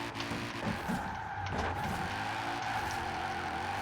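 A car in Forza Horizon 4 drifts through a corner, its tires squealing steadily over a droning engine, close and loud, for a few seconds.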